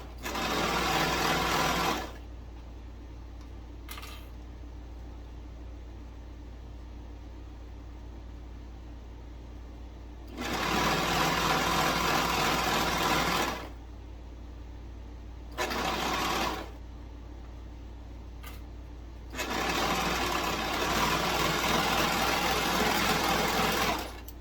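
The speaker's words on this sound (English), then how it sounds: "I have a serger because my machines are all straight stitched" A serger runs in three loud, steady bursts of buzzing stitching while a tee shirt is sewn, with quiet gaps of low motor hum and a brief click between runs.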